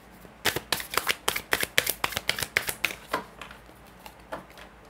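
Stiff tarot deck being shuffled, a quick rapid run of crisp card riffles and slaps close to the microphone that slows and fades toward the end, with no talk.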